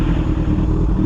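A Suzuki GSX-R 1000 sport bike lane splitting gives a loud, close, steady engine drone with low rumble and wind, and no speech over it.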